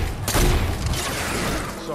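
A burst of loud rapid gunfire with booming impacts from an egg launcher in Fortnite, dense and continuous, with some talk underneath.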